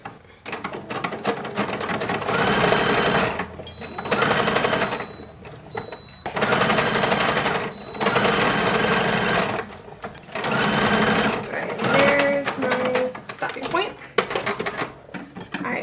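A sewing machine stitching a toddler's summer hat runs in several long bursts of loud, rapid mechanical whirring separated by short pauses, close to the listener.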